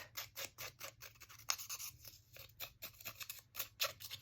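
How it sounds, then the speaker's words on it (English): Scissors snip repeatedly in quick, crisp cuts with a papery rasp, close to the microphone, with a few brief pauses between bursts. "I don't mind if the scissors break it, tear it"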